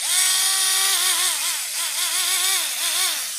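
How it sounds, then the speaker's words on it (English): A cordless power drill from a home drill set whirs steadily up close, its motor pitch dipping and rising in several quick throttle pulses without pause. "I just have a random drill set right there that I got for Christmas"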